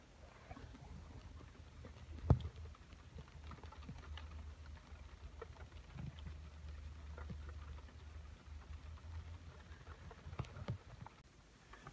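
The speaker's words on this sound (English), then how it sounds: "there's the van in the rain" Rain patters on a 2001 Toyota Sienna van in a downpour, a faint, steady tapping texture with one sharper knock and low background hum.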